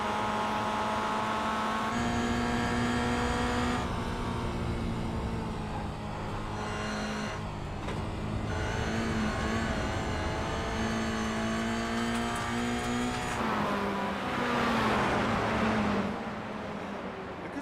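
Mazda MX-5 race cars in a multiclass sim race at Barber Motorsports Park, engines droning and revving steadily with gear shifts throughout, a louder surge near the end as cars close in, no talk.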